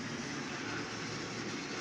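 Thomas and Friends Trackmaster motorized toy trains running around a big rail yard set, giving a faint, continuous rolling rumble with a soft clatter throughout and no voices.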